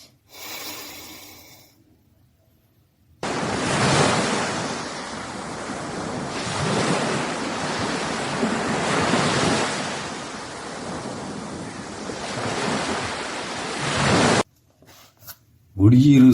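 Sea waves wash onto the shore in a broad, steady roar with slow swells rising and falling, loud and close, with wind buffeting the microphone; a brief stretch of quieter sound comes before and the surf cuts off near the end.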